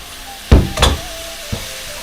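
Tomatoes drop into a hot frying pan while a Mangalore-style chicken curry cooks, giving two sharp sizzling bursts followed by a softer tap against a steady background hiss.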